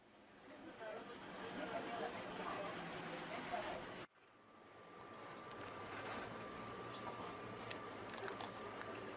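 A free airport shuttle train runs between terminals, its steel wheels squealing over a steady rolling rumble, with a brief cut partway through and a sustained high screech building in the second half, close and continuous.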